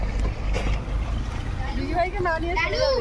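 A boat in the Sundarbans pulls away from shore with its engine running, a steady low rumble under wind buffeting the microphone, while people nearby talk and call out goodbyes.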